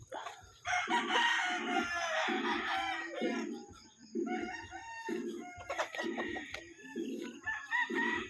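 Chickens cluck and crow repeatedly around a farmyard, a rooster's calls mixed with busy hen chatter at moderate distance.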